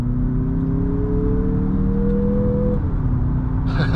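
A Mazda CX-50 on larger off-road tires drives along at speed, with a steady loud roar of road and tire noise and a faint engine note that rises, then drops back.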